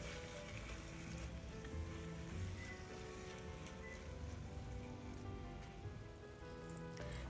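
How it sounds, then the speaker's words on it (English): Red onions sweating with carrots in a stock pot, a steady soft sizzle and crackle like light rain, constant and fairly quiet with no talk. "And now I'm adding the red onions to the stock pot because the carrots have been cooking for a little bit."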